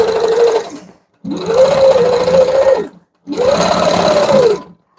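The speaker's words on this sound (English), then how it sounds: "I am stitching in the ditch right now" A sewing machine stitches in the ditch on a custom panel quilt, loud and close, running in three even bursts separated by brief silent stops, with no talking.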